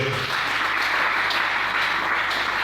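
A church congregation claps and cheers in praise, a loud, dense, steady wash of applause with no speech over it.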